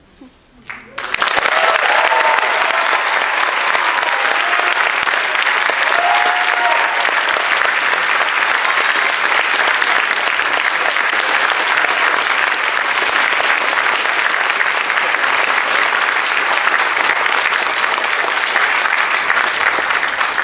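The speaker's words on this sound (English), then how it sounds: "Give him one more round of applause, please." Loud, sustained applause from a large audience at a school gathering rises abruptly and holds steady for nearly twenty seconds as a dense wash of clapping, with no speech over it.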